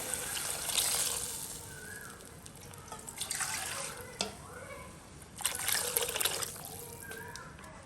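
Thin coconut milk trickles and splashes into a pot of curry in an outdoor kitchen in a couple of soft pouring bursts, with faint voices in the background.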